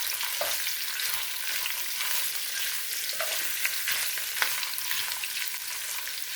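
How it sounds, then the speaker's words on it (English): Sausage searing in a pot over medium heat for a Cajun potato and sausage soup, a dense, steady sizzle with a few soft scrapes and pops, close and alone without voices. "so I'm just gonna throw in my sausage. And you just want to get a nice color on it."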